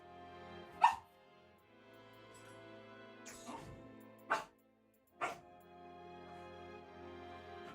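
Puppies barking while they play, three short sharp barks spaced a few seconds apart over a faint steady background hum.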